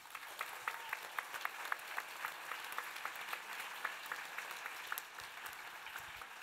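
Applause from a festival debate audience, a steady wash of many hands clapping at moderate distance, with sharper individual claps standing out throughout and no speech over it.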